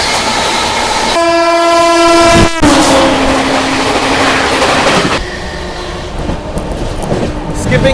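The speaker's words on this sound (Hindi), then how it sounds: "ये है अपनी दी one and only Howrah Rajdhani express" The New Delhi Howrah Rajdhani Express running at speed, with a loud, close, steady horn blast over the rushing roar and rattle of passing coaches that continues after the horn stops.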